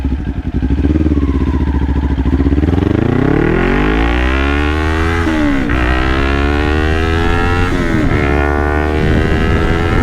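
A Kawasaki Ninja 400 motorcycle engine howls loud and close on a night ride, climbing steadily through the revs with sharp dips at gear shifts, no talk over it.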